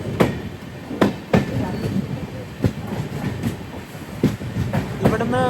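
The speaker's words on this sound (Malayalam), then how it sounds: "ട്രെയിൻ ഇതാ വൈഭവ്വാടി റോഡ് സ്റ്റേഷനിലേക്ക് എത്തുകയാണ്" Sindhudurg Express pulling into Vaibhavwadi Road station on the Konkan Railway, with rhythmic wheel clacks over rail joints, a steady rumbling carriage noise and brief squeals near the end.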